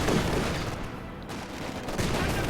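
Gunfire crackles in a Company of Heroes 2 battle, a dense, steady rattle of shots and distant bursts lasting a couple of seconds.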